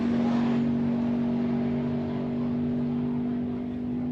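Steady loud engine roar with a strong constant drone from a turbocharged Nova and a Corvette drag racing at Sick Week 2023, held continuously and slowly easing off, heard from a distance across the track.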